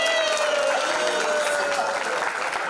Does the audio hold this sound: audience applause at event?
yes